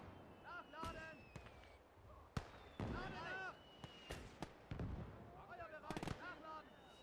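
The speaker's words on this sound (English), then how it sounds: "Mortars are doing work again." Mortar fire in a WW2 real-time strategy game: a series of sharp, loud impulsive bangs and thuds scattered across the clip, mixed with whistling and other battlefield effects, with a voice talking over parts of it.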